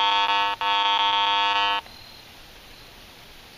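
A Garrett AT Pro metal detector sounds its discriminated iron audio tone, a loud, close buzzy pulsing drone that cuts out briefly, resumes, then stops, leaving quiet hiss.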